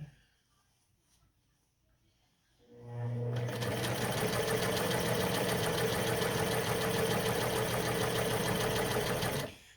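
A sewing machine back-stitching along a robe seam starts up after a quiet moment, then runs in a loud, fast, steady whir close by.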